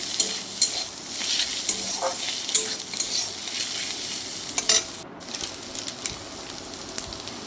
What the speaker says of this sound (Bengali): ডিমটা আমার প্রায় ভাজা ভাজা হয়েই এসেছে